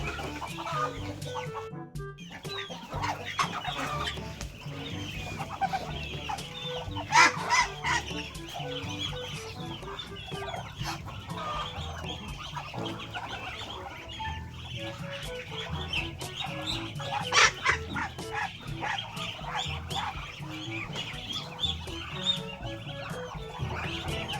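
Hens and chicks cluck and peep steadily on a Philippine farm with coconut trees and calamansi, a busy mix of soft clucks and sharper calls near and far, with brief background voices.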